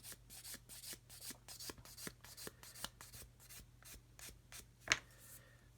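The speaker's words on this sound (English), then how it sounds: "sand this one out, get rid of that sprue nib first of all, which is why we're using a hard stick" A hard sanding stick rubs a seam on a plastic model in quick, quiet strokes, a soft rasping rhythm with one sharper scrape near the end, close and alone.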